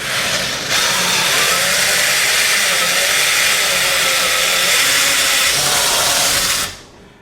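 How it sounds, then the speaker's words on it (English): A power drill whines continuously and loudly for several seconds as it drills through a wooden garage door, its motor steady and harsh, then stops abruptly. "I'm going to drill through the existing hole that is in this door"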